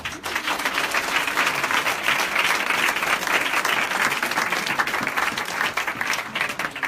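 A church congregation at a prayer service breaks into sustained, loud applause that fills the hall evenly from start to finish, dense clapping with a faint crowd murmur underneath.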